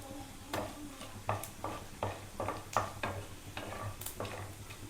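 Tomato rice ingredients being stirred in a pan, a spoon scraping and tapping in a steady run of soft, close strokes over a faint sizzle.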